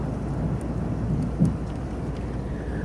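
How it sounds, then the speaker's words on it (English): Steady rain falling outdoors in West Texas, a close, continuous patter and hiss with low rumbling underneath and a single brief louder thump. "We're so excited to see rain."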